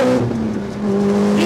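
A Lotus Exige S GT Special Edition engine pulls hard under acceleration, a loud, close, continuous rasping drone with a steady pitch throughout the short burst.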